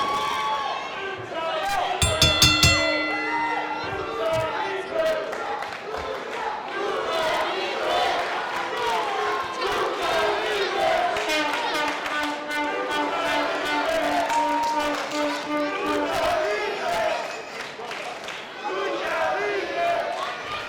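A crowd at a UCW lucha libre wrestling show cheers and chants loudly throughout, with a commentator's voice over the noise and bursts of sharp slaps and thuds from the ring.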